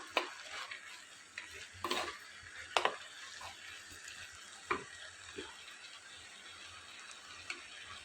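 Onions sauté in a pan for mushroom kurma, giving a quiet background sizzle broken by a few sharp stirring scrapes and knocks of the spoon, with no talking.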